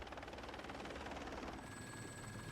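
A helicopter flies along power lines inspecting them with infrared cameras mounted underneath. The rotor chop is steady and rhythmic, a dense throb lasting the whole brief moment, with no voices over it.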